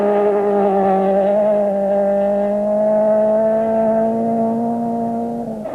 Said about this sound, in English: Their 16-valve Golf sounding good and going well.